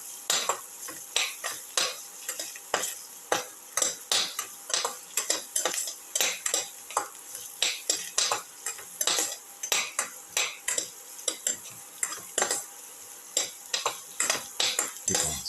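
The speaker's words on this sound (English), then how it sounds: "Keep on sauteing." Shallots, garlic and cumin sautéing in a pan, with a continuous bright sizzle broken by quick, rhythmic spatula scrapes and taps against the pan, close up and without speech.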